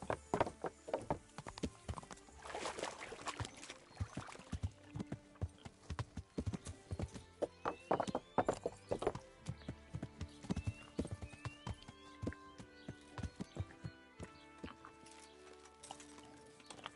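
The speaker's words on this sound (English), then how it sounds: "Look at him trotting up the hill." Horse hooves clip-clopping in a steady trot up a hill in the medieval video game Kingdom Come: Deliverance, close and clear, with an occasional whinny and busy game background sounds, no talking.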